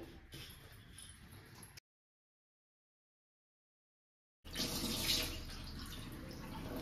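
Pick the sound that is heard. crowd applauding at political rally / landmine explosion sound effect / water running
water running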